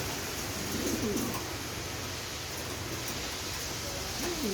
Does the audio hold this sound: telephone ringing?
no